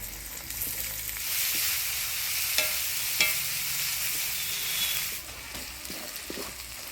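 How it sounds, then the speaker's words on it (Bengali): Onion is stir-fried with dried fish and crushed garlic in oil, a loud continuous sizzle broken by a few sharp scrapes of a utensil stirring in the pan, easing off toward the end. "এবার দিয়ে দিব পেঁয়াজ"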